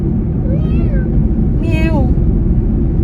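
A young child imitates a cat, giving two short rising-and-falling meow calls close by over a loud, constant rumbling background.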